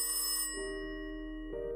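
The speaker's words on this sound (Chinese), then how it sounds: "电话响了，他要跟我讲话吗" A telephone rings in the Rusty Lake puzzle game The Mill, an electronic tonal ring with a brief burst, a sustained tone, then another, clear and alone.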